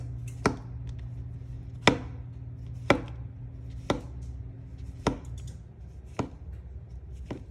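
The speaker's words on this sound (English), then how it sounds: "And then we're going to go ahead and just thinly slice these." A kitchen knife thinly slicing mushrooms on a cutting board, seven crisp evenly spaced chops about a second apart, close and clear against quiet room hum.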